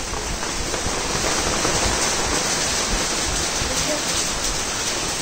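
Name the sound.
rain falling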